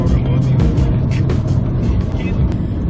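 A car drives along, heard from inside the cabin as a steady low engine and road rumble, with people talking over it throughout.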